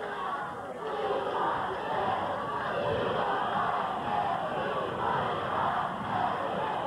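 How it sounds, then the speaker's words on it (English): Wrestling arena crowd at a 1983 Portland Wrestling event chanting and roaring continuously, a dense, loud wash of voices that never lets up. "Now the crowd chanting, we want Stan."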